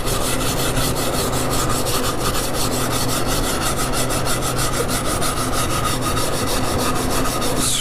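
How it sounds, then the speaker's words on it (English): Steady, continuous scraping of a brush over charred wood while building an entertainment center, a close, dense rasping rub that runs without pause. "scrape out all that charred stuff."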